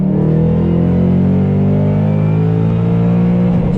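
A Ford Shelby GT500 V8 accelerates hard and close, its engine note climbing steadily in a loud, continuous roar.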